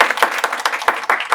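An audience at an artist talk bursts into applause for the evening's speaker, a steady patter of many hands clapping that swells and dips in waves for the whole stretch, close and fairly loud.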